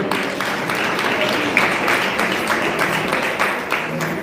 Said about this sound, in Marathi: सर्वांनी जोरात टाळ्या